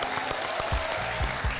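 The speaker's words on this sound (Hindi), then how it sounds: "लालू जी के लिए तालियां।" A studio audience on a television game show breaks into applause, a short burst of clapping that holds steady at moderate volume, with low thumps and hum beneath it.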